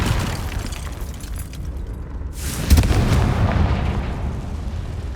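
A Confringo spell explosion in the video game Hogwarts Legacy bursts as a single loud boom with a crackling tail, standing out from the steady background rumble and noise of play.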